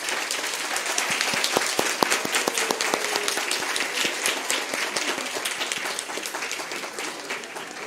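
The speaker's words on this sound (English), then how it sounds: "give a huge round of applause to Dr." Audience at a student research congress inauguration ceremony applauds Dr. Lokesh Bhatt, a steady, sustained crowd clapping with distinct individual claps standing out near the front, continuing throughout.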